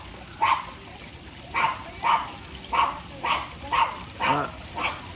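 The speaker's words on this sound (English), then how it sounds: "A little high bark, that's Apollo, Shih Tzu" A small Shih Tzu dog gives a series of sharp, high-pitched barks, about eight of them spaced roughly half a second to a second apart, close and clear over a quiet background.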